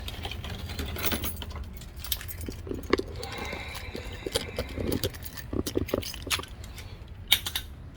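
Metal keys jangle and clink in short irregular bursts near the mic while someone works on a truck with an LS engine swap, with faint rustling between the jingles.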